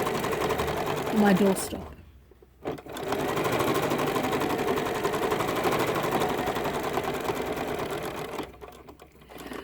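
Sewing machine stitching a strip of fabric into a doorstop handle, a rapid buzzing run that stops briefly, resumes for a long even stretch, then pauses again near the end, with a voice speaking briefly.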